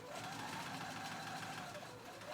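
A sewing machine top stitches fabric with interfacing for a convertible jacket-backpack, a fast, even, continuous mechanical whir and stitch rattle that is loud and steady throughout with no voices.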